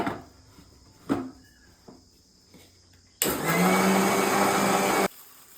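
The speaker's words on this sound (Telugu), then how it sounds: "ఇంకో రౌండ్ మిక్సీ పట్టుకుందాం." Quiet room with a few clicks, then a mixer grinder blending a mint masala paste roars loudly for about two seconds before stopping abruptly.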